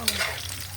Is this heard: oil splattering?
yes